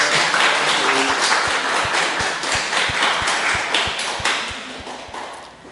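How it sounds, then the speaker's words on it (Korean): A church congregation at a Sunday service claps for the fathers, a dense, lively burst of many hands that gradually tapers off over several seconds. "이 시간 우리 아버지들의 헌신과 수고를 감사하며 격려해드리는 마음으로 한번 큰 박수로 응원드리겠습니다."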